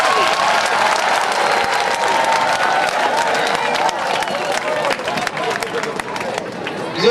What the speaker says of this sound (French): il nous fait applaudir, il faut applaudir encore plus fort